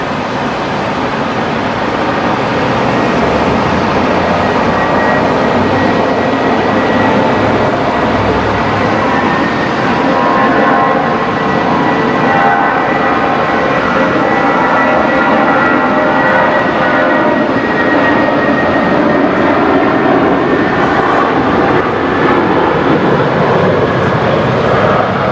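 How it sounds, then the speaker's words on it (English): Jetstar flight 823, a jet airliner, begins its takeoff roll at Brisbane Airport bound for Sydney, a broad steady roar of engines sustained and fairly loud from a distance. "next departure is going to be Jetstar 823, heading down to Sydney. I think it's just beginning its takeoff roll"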